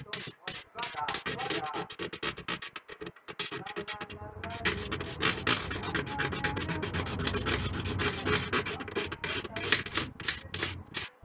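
Glue being rubbed off a motorcycle helmet shell during paint prep, a steady dry scraping and rasping that runs almost continuously and fairly close, with short gaps early on.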